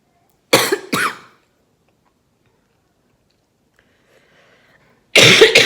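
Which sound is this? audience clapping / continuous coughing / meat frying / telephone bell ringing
continuous coughing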